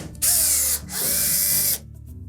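A power drill backs Phillips screws out of a Samsung dryer's top panel in two loud whirring bursts, the first shorter, separated by a brief pause, with motor pitch shifting as each screw loosens.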